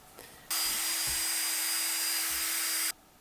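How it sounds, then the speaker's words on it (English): A power drill bores through glued-together popsicle sticks, running in one steady high whine of about two and a half seconds, close and loud, starting and stopping abruptly. "Now that I've drilled the hole through"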